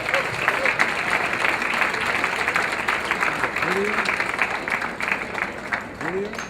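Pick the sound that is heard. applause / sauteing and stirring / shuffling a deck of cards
applause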